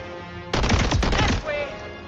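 Bursts of rapid automatic gunfire in the video game Highguard, a dense rattling volley lasting about a second, then a shorter burst that trails off into a faint ringing tone.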